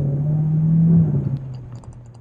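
A Peugeot 3008 Hybrid4 in sport mode gives a steady engine drone that holds for about a second, then eases off and fades to a quieter rumble, with faint clicks near the end.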